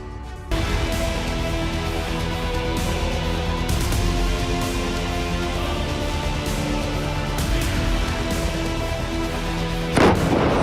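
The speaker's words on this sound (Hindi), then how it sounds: "राफा से लेकर खान यूनुस तक जबरदस्त धमाके" Heavy explosions thud repeatedly within a constant loud, dense rumble that never lets up, during bombardment from Rafah to Khan Younis in Gaza, with tanks on the ground.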